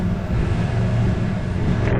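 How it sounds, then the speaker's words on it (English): A repurposed lawnmower tows cars nearby, giving off a steady low engine drone and rumble that holds without a break for the whole stretch. "That's the ring, ring, ring that you're hearing. That's the repurposed lawnmower."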